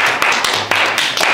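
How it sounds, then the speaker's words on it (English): A short burst of quick, uneven hand claps from a small group, close by, over a busy background. "Clap it up."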